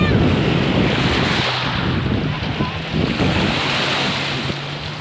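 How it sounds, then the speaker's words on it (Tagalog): Strong ocean waves at a beach in Lobo, Batangas: a loud, continuous roar of surf mixed with heavy wind buffeting the microphone, with brief voices faintly under the noise. "Lakas ng alon, no?"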